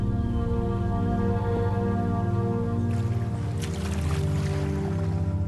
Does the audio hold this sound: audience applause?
no